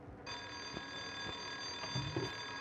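An alarm in the PS2 first-person shooter Cold Winter kicks in and rings continuously as a steady, piercing electronic tone, with faint game noises and soft thumps underneath.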